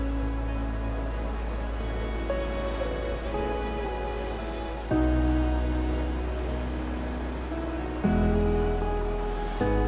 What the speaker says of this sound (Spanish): el murmullo del océano, constante